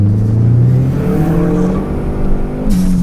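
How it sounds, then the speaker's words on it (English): A Neon SRT-4 revs hard near the top of second gear, its engine note climbing steadily then dipping as the tires spin, loud and close with no talk. "Wow, there's some wheel spin, top of second"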